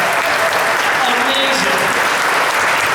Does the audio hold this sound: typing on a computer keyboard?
no